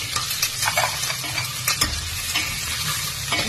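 Curry leaves, added after dried red chillies, fry in hot oil for a tempering: a steady, close, hissing sizzle with light stirring scrapes throughout.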